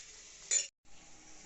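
Spice powders including turmeric, Kashmiri chilli, coriander, cumin and fennel stirred in a frying pan for Bengali chingri chorchori, one short sizzling scrape of the spoon, then a gap and faint frying hiss.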